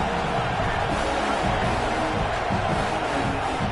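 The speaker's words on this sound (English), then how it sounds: "this crowd trying to help keep them there." A football stadium crowd cheers as the home defense keeps the opponent pinned deep, a loud, sustained roar of many voices filling the clip, with no lulls.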